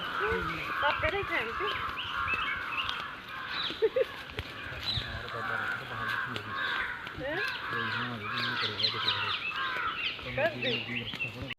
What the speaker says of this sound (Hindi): पक्षियों की आवाज़ें आ रही हैं आपको